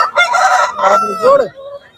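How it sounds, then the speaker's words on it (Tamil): A rooster crows loudly and close by at the Kunnathur market near Tiruppur, India, one full drawn-out cock-a-doodle-doo ending in a falling note. "இந்த மாதிரி சேவல்"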